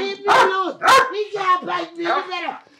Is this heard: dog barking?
yes